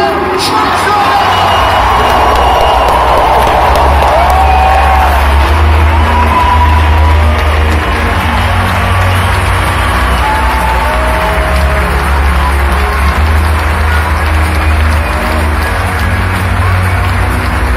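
Bayern Munich supporters in a packed stadium applaud captain Philipp Lahm, a loud, continuous wash of clapping and cheering from a huge crowd, with a stadium announcer speaking over it.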